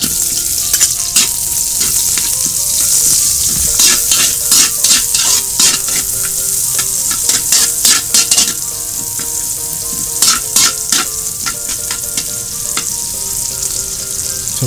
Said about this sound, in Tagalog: So pa-brown na muna natin yung mga sibuyas natin tsaka garlic mga master.